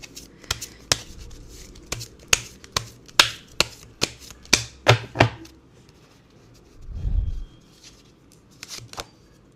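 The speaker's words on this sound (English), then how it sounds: "Let's just shuffle one more time." Tarot cards being shuffled, a rapid series of crisp riffles and slaps close by, followed by a soft low thump and quiet.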